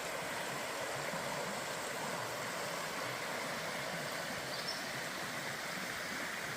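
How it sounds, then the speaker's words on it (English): Brown Mountain Creek flows steadily along an Appalachian Trail section, a constant broadband rush of water holding the same level throughout with no voices. "Walking next to the Brown Mountain Creek,"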